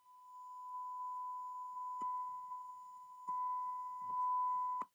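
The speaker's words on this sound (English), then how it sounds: "you can hear the sine wave getting louder as you increase the gain using slider" A steady pure sine tone from software-defined radio software holds one pitch and swells gradually louder, broken by a few brief clicks along the way.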